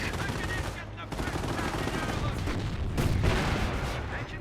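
Machine gun fire and scattered gunshots from a Company of Heroes battle, a dense continuous rattle of bursts with battlefield noise, loud and steady throughout.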